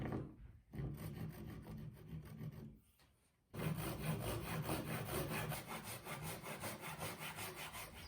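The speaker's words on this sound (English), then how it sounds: "I'll use my crosscut saw to begin sawing that board off." A hand crosscut saw rasps back and forth through a wooden board in quick, even strokes, pausing briefly before resuming its steady rhythm.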